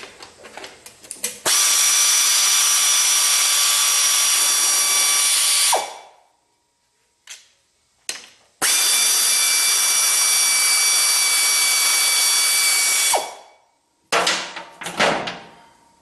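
A cordless power tool spins out screws from a transmission cable bracket, two long steady high-pitched whirring runs of several seconds each with short bursts between, loud and close, no speech.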